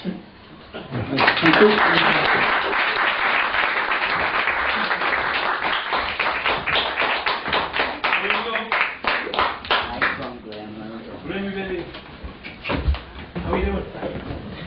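Audience applause after a poetry reading swells quickly and holds as a steady, dense patter of many hands for about ten seconds, then thins as a voice speaks over the fading claps.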